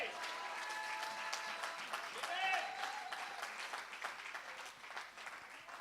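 A church congregation applauding, a steady dense wash of clapping with scattered cheers and voices underneath, sustained throughout at moderate loudness.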